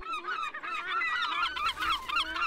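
Herring gulls fighting a great black-backed gull over their breeding territory, loud harsh honking and wailing calls overlapping continuously, close by with no pauses.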